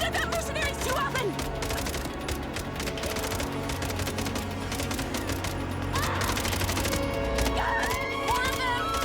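Sustained machine gun fire against mercenaries in the action video game MindsEye, a dense continuous rattle of rapid shots mixed with game effects and music, loud throughout.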